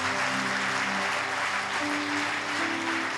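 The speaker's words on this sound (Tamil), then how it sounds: "நல்ல ஒரு கைத்தட்டு கொடுங்க என் அன்பு வாலிப தம்பிமாருக்கு." Dense, steady applause fills a Tamil Christian worship service for a group of young musicians, with a few sustained instrumental tones lingering underneath.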